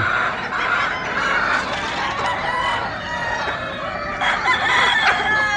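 Breeding pullets being primed for the breeding season cluck and call in a group nearby, overlapping bursts of squawking and crowing-like cries, fairly loud and continuous.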